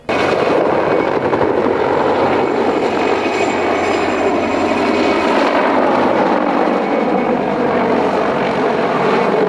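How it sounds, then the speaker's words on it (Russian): A helicopter performing a display flight at an air show at Gagarin's landing site, a loud, continuous roaring engine and rotor noise that stays steady and close throughout, with no talk. "Шквал эмоций у зрителей вызвало пятиминутное выступление пилота вертолета Общества содействия армии и авиации"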